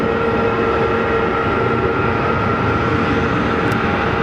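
A KLM Embraer jet at Geneva Airport produces a loud, constant engine drone with a steady whining tone, unbroken and close throughout the short stretch.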